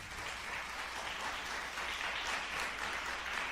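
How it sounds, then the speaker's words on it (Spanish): A church congregation applauding, a dense, steady roar of many hands clapping together throughout, fairly distant and even in loudness. "Denle un aplauso al Señor por eso."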